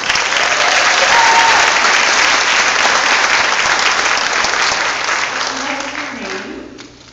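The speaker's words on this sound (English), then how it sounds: "So big round of applause for the ladies." An audience claps loudly for a group of women dancers at a dance class, a dense, steady wash of applause lasting several seconds before tapering off at the end, with faint voices mixed in.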